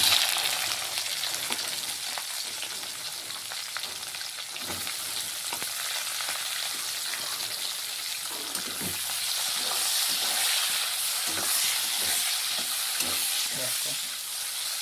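Chopped onions fry in a pan, giving a loud, continuous hissing sizzle with small irregular pops and faint utensil movement.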